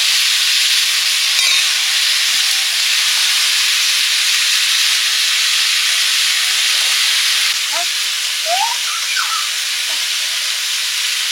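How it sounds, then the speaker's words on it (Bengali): Bitter gourd with turmeric fries in hot oil, giving a loud, close, continuous sizzle and hiss with a few faint utensil clinks and squeaks toward the end. "ওইদিকে উচ্ছে ভাজা হচ্ছে"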